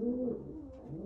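Breeder pigeons (kalapati) coo in a soft, steady low murmur through the whole moment, close by and unaccompanied by talk.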